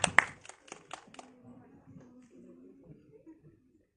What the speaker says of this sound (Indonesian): Tepuk tangan dong teman-teman media.